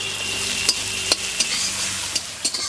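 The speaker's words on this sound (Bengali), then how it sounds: "পেঁয়াজ আমার ভাজা ভাজা করা হয়ে গেছে" Chopped onions with a little salt fry in a pan with a steady sizzle, punctuated by a few sharp scrapes and clicks of a utensil stirring.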